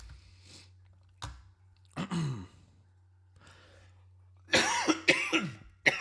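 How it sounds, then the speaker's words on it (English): Several close, harsh coughs into a microphone, a couple of isolated ones followed by a louder cluster near the end, over a low steady hum. "I'm sorry about coughing into the mic."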